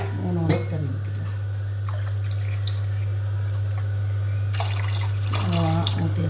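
Water pours into a cooking pot for chicken kuzhambu with coconut milk, a continuous splashing stream under a steady background hum, with someone speaking briefly before and after.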